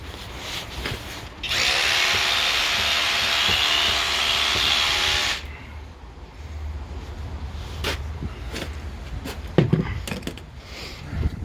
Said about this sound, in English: Pass that drill again, Mark.